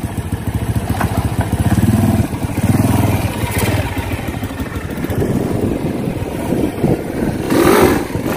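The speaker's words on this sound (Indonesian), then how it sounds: "Di depan saya sudah ada motor, sepeda motor Honda 70 guys." A Honda 70 motorcycle engine revs up and settles back several times, its clattery small-engine note rising in surges around two, three and near eight seconds between idling stretches, loud and close with no talk.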